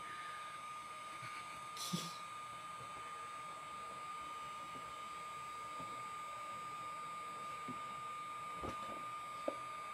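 A heat gun set to its cold setting blows with a steady, faint whooshing drone and a thin constant whine, used while prepping Amazon FBA inventory.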